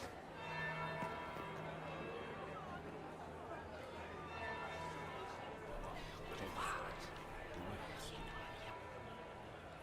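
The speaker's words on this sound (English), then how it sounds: "That would be the second bell." A bell tolls in Dragon Age: Inquisition with a faint sustained ringing tone heard amid background crowd chatter and ambient bustle.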